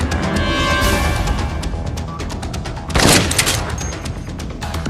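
Gunfire in the Dead Rising zombie game comes from a floor above as a rapid burst of shots with booming thuds, which swells in a heavier blast partway through against a dense game backdrop.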